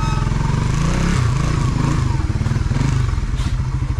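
A motorcycle engine idles loud and close, a rapid steady putter with slight rhythmic fluctuation and some clatter, running continuously with no clear speech.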